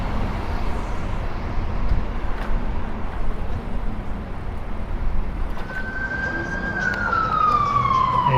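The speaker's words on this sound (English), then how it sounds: "And here comes the ambulance." Ambulance siren approaching on a city street on a medical call, a loud wailing tone rising out of heavy traffic rumble and then sweeping down as it passes close by.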